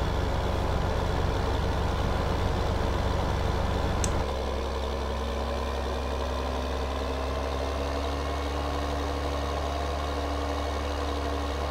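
A tractor engine idles in Farming Simulator 15, a steady low rumble that drops to a quieter, deeper idle partway through, continuous and close with no voices.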